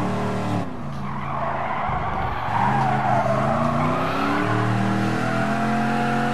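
A Chevrolet Camaro in Gran Turismo Sport brakes hard, its tires skidding and squealing loudly over a steady, droning engine note that dips and then rises again.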